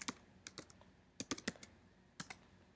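Light clicks of typing on a computer keyboard, in short bursts of a few keystrokes separated by brief pauses, close and quiet with no talking.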